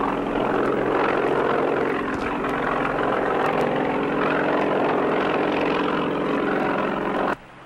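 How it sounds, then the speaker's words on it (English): A helicopter flies close and loud, its steady rotor and engine roar holding without break until it cuts off abruptly near the end, with no voices over it. "They've got a helicopter on the way to pick you up."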